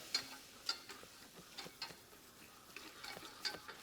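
Butter and flour roux stirred in a pan, with quiet scraping strokes and light ticks recurring irregularly at close range, faint overall and without speech.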